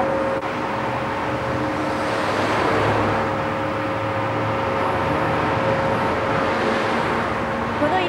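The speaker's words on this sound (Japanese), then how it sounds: "本当に車の交通量が多いところですね" Heavy car traffic on the Irohazaka road beside the old Akechi tunnel, a continuous broad roar of passing vehicles that stays loud and steady throughout, with no break between cars.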